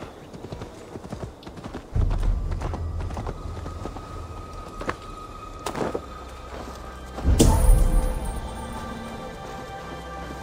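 Horse hooves clip-clop steadily in the Assassin's Creed Valhalla video game, a close series of hoof clops, with a louder thump and rustle partway through and faint game ambience beneath.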